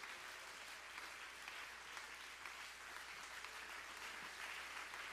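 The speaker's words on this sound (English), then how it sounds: "I wonder if we can clap our hands unto the Lord all over the house" A church congregation claps their hands to the Lord during a conference service, a dense, even wash of many hands from across the room that stays faint and steady throughout.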